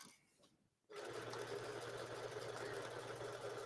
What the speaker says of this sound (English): Stitching all the way down.